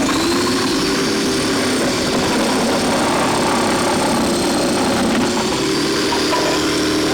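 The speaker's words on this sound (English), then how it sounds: "let's grate a little bit of carrot" A food processor grates carrot for a salad, its motor whirring steadily and loudly throughout with a constant drone and no talk.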